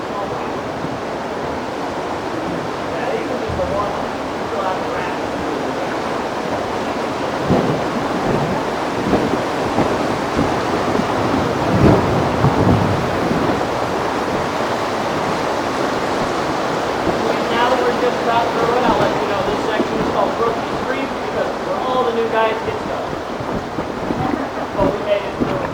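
Rushing river water on a rubber raft trip down the Ausable Chasm, a continuous broad roar of low-water rapids that swells midway, with faint voices underneath.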